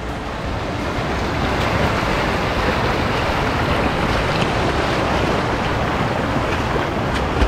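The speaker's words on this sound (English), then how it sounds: "First semi-significant river crossing." Continuous loud splashing and rushing water as a runner wades a river crossing on a mud trail during the Cape Wrath Ultra race in Scotland, a dense steady wash with wind buffeting the microphone and no talking.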